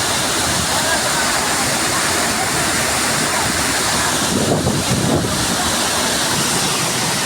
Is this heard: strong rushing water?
yes